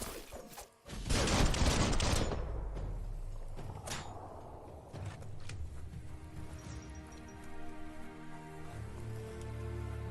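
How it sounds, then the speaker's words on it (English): Gunfire in the video game Biomutant: a loud burst of rapid shots early on, then scattered single reports and clanking mechanical sounds over a low, sustained rumble. "Bullets everywhere."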